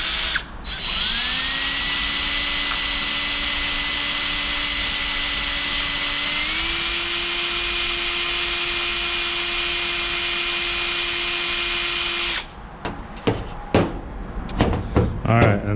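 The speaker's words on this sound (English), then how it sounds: "we're going to go up and down with the stone inside the hone for about 15 seconds" A stone hone spinning inside a brake caliper cylinder, driven by a drill, whines steadily and close for about twelve seconds, its pitch stepping up partway through, then stops and leaves clattering handling noises.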